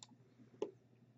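A soft computer mouse click, two quick faint clicks about half a second apart against quiet room tone.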